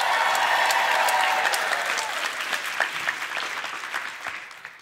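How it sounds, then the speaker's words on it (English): Comedy-show audience breaks into loud, full applause that gradually thins and fades into scattered individual claps toward the end. "Give her a round of applause."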